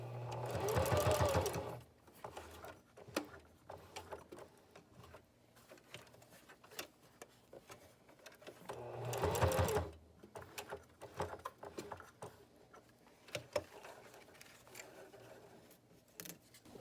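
A sewing machine stitches elastic and hook-and-loop attachments onto a fabric mask, running in two loud bursts of rapid whirring, with quieter handling clicks and rustles between them.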